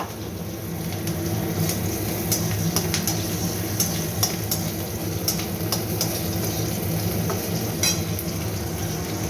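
Garlic sizzles and crackles steadily in a hot pan, with scattered clicks of a utensil stirring. The frying is close and continuous, and no one talks.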